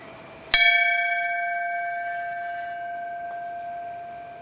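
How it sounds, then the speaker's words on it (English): A single memorial bell struck once at a Patriot Day ceremony, a sharp clang followed by a long, clear ringing tone that slowly fades over several seconds with no talk. "Let us now toll the bell once in dedication to all the firefighters, paramedics, police officers"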